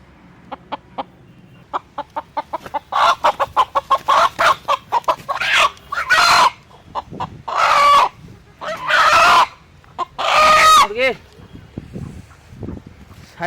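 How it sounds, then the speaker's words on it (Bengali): A large desi country chicken clucks close up in a run of short, sharp calls that build into louder, drawn-out squawks and crowing bursts. "এটার মধ্যে সেই মুরগিটা আছে, দেশি মুরগি আপনাদের যেগুলো দেখাচ্ছিলাম"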